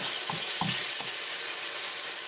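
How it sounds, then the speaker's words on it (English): Onions frying over low heat in a pan give a steady, close sizzle, with a few brief stirring scrapes near the start. "you'll also kind of hear that sizzle sound"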